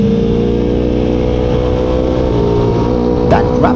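Ducati Monster motorcycle engine at high revs on a race circuit at Dubai Autodrome, a loud sustained harmonic drone close to the rider's own bike, with a brief rasp of another machine passing near the end.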